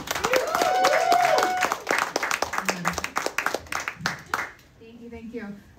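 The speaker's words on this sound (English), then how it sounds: "I'd just like to give him a round of applause as well" Applause for the host at Launch Factory, a Web3 meetup venue: a burst of clapping under a voice, thinning into scattered individual claps before it dies away and quiet talk takes over.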